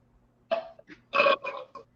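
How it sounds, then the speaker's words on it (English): A man lets out a loud, gurgling burp close to the microphone. It comes as a drawn-out belch broken into several throaty pulses, with no talk over it. "Burp."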